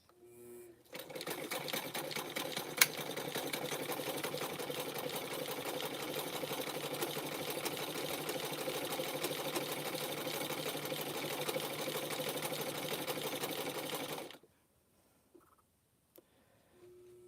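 A sewing machine runs steadily for about fourteen seconds, stitching rope to form a tea cup, in a loud, close, even mechanical whir. It stops abruptly, leaving near silence with a couple of faint clicks.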